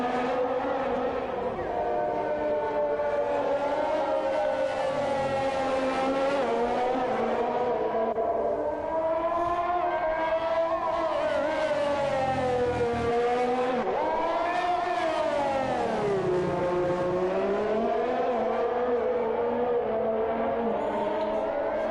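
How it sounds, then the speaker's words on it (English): Race cars howl around the Sochi circuit in a racing video game, a continuous loud engine whine rising and falling through gear shifts and corners, with commentary running underneath. "Victor going towards the final sector before he will start the final lap of this race in Sochi"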